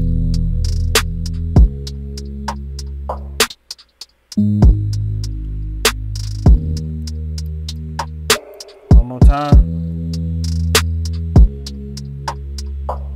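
A deep sub bass line throbs beneath sparse clicking percussion, loud and steady, briefly dropping out twice.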